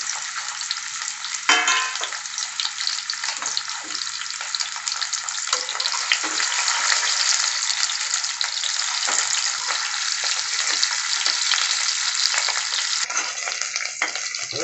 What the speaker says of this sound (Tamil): எண்ணெய் சூடாகணும் அதில் இந்த உருளைக்கிழங்க கொஞ்சமாக வறுத்து எடுத்துக்கணும்